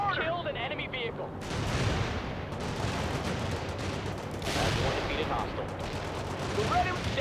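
Enemy gunfire and artillery rattle in a World in Conflict battle, repeated bursts and booms rolling on at close to middle distance, with radio voices talking over parts of it.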